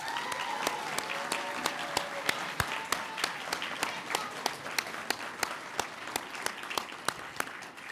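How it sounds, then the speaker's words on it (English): At a banquet, a crowd gives a sustained round of applause, a steady wash of many hands with sharper individual claps standing out, moderately distant and continuous without talk. "we should all give a big round of applause for Mark."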